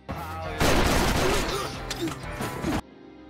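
Gunfire from an armed group attacking two men on motorcycles in an action film, a loud dense burst of shots and crashing impacts lasting about two seconds before cutting off abruptly.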